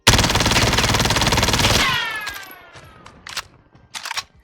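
A MAC-10 submachine gun fires full auto in a video game, a dense unbroken rattle of about 32 rounds lasting nearly two seconds, loud and close, then fading into a ringing tail and a few faint clicks.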